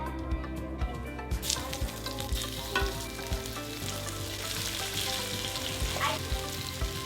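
Panko-breaded mahi mahi fries in oil in a pan, a dense close crackling sizzle with frequent utensil knocks and scrapes as the pieces are shifted around.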